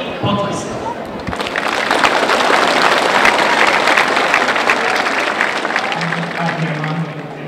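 A crowd at a 2012 living chess game in Banská Štiavnica bursts into loud, sustained applause after a brief quiet start, the clapping dense and steady until the end.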